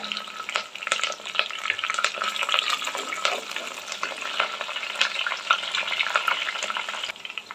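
Green chillies and curry leaves sautéing in oil for a fish curry, a dense continuous crackle and sizzle with frequent stirring scrapes throughout, close and fairly loud, no voices.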